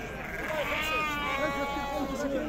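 Sheep bleat repeatedly amid the bustle of the Tuesday livestock market in Azrou, several short wavering calls under people talking nearby.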